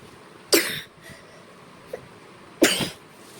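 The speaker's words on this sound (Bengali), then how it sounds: "কাশি হচ্ছে" Two sharp, close coughs a couple of seconds apart from a child at home sick, with a small throaty sound between them in a quiet room.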